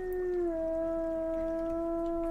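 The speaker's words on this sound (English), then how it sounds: "Her mate howls in frustration at her." A wolf in the video game WolfQuest lets out one long, loud, steady howl that dips slightly in pitch early on, then holds a sustained tone to the end, with no other sounds.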